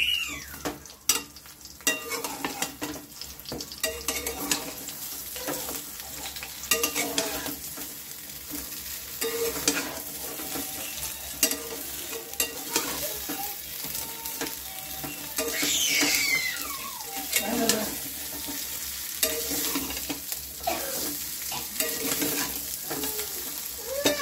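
A tadka tempering sizzles steadily in a hot pan for rava besan idli, with continuous crackling and spitting, occasional stirring scrapes and a few brief louder pops, close and fairly loud, no talking.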